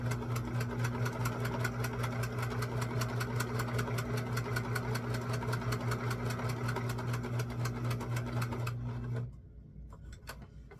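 A sewing machine stitches linen fabric with a steady, fast mechanical whir and rapid regular needle clicks, close and continuous, then stops near the end leaving a few faint clicks.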